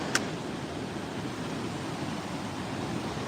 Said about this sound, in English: I love the way the river has a really loud noise, but this kind of white noise is very soothing